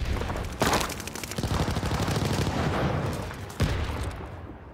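Heavy strafing gunfire from a bomber in Call of Duty: Vanguard, a dense, continuous roar of shots and booms with a couple of sharper loud impacts standing out.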